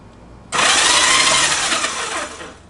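A 1965 Honda CB77 Super Hawk motorcycle engine is cranked and caught briefly, a loud, sudden burst of rough mechanical noise that runs steadily for about two seconds and then tapers off.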